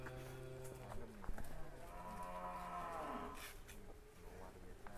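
Carolis cattle moo on a farm in a long, low bellow that swells and falls over several seconds, fairly close, with some faint talk and farm noise around it.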